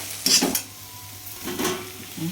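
A spoon scrapes and stirs egg curry with garlic chili paste in a pan in a few short bursts, with a soft sizzle in between and no talking.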